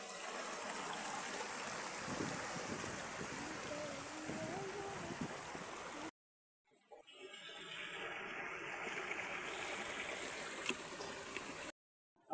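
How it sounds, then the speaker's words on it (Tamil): A forest stream where crabs are caught rushes and gurgles steadily, with a brief break in the middle before the flowing water resumes. "முதல்ல நாங்கள் ஒரு ஓடைக்கு வந்திருக்கிறோம்."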